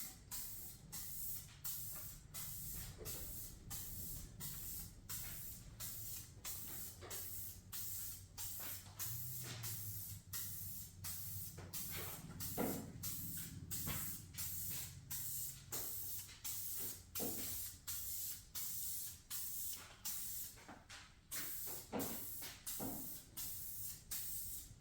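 Spray can spraying factory paint onto an Air Design hood scoop for a 2019-plus GMC Sierra 1500, heard as rapid repeated short hissing bursts in a regular rhythm, close and fairly loud.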